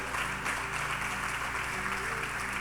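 A church congregation applauds during an evening youth service, steady, dense clapping that fills the whole stretch, with a low sustained organ or keyboard hum underneath.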